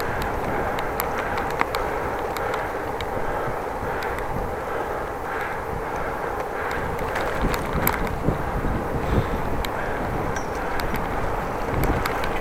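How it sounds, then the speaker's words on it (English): Steady wind buffeting the microphone while cycling through Groningen, a constant loud roar with brief gusty swells and no one speaking. "Now gonna turn, so the wind is coming from the side."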